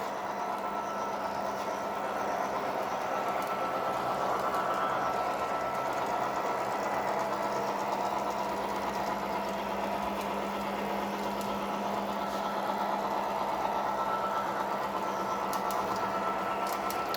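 A model train engine runs steadily, a low continuous motor whir and hum that carries on at an even level without a break, with no voices.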